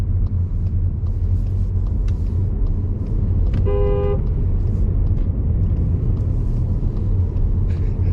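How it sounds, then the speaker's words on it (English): A car horn gives a single clear beep from a passing lorry on a road, heard over steady traffic rumble and road noise from inside a new Skoda Superb. "First beep."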